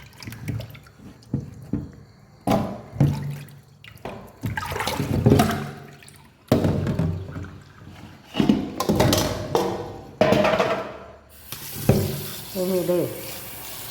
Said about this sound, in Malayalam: ഞാനിത് നല്ലതുപോലെ ഒന്ന് കഴുകി എടുത്തിട്ട് വേണം